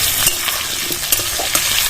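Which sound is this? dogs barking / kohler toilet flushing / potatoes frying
potatoes frying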